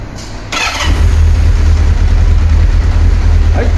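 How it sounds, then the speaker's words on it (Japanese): A Kawasaki Zephyr 750 motorcycle engine cranks briefly, then fires and settles into a loud, steady idle close by with a deep, even rumble. A short clatter of handling noise is heard first. "ではね、エンジン始動いきたいと思います。"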